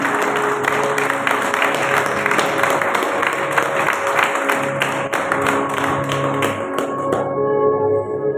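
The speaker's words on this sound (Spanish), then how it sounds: "Denle un fuerte aplauso al Señor." Congregation applauding to the Lord during an evangelical church service: steady dense clapping over sustained music tones, filling the room for about seven seconds before it breaks off.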